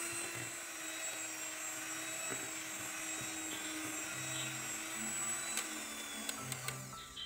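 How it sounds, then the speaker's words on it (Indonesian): An electric mixer beats eggs with sugar, vanilla and cake emulsifier at high speed for a sponge cake, making a steady whirring motor drone with a few light ticks near the end. "Kemudian mixer dengan kecepatan tinggi sampai putih,"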